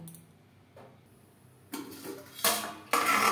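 A metal lid is placed on a pot of Bengali-style aloo chicken curry, giving a few close clanks and rattles of metal on metal after a quiet start.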